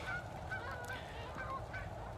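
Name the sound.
distant birds calling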